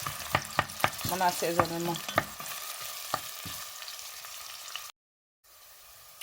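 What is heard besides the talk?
onions frying and caramelizing in a pan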